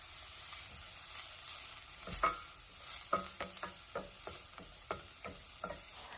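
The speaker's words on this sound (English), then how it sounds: "I'm just going to saute the onions until they become aromatic and translucent" Chopped onions with a pinch of salt sauté in a pan, a soft, steady sizzle broken by a series of spatula scrapes and taps that land every half second or so near the end. No one speaks.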